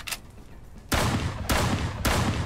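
Video game weapon fire, with three loud, close bursts of rapid shots about half a second apart after a quieter opening. No one talks.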